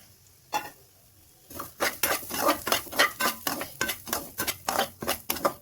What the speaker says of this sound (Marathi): ह्याला 5-10 मिनिट लाल ब्राऊन म्हणजे भाजून घ्यायचं